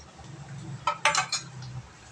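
A spoon stirs an almond and cashew mixture in a pan, giving a short, quiet cluster of metallic clinks and scrapes over a low background hum.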